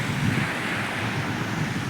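Steady broadband wash of ocean surf with wind roaring across the microphone, no voices, continuous and fairly loud throughout.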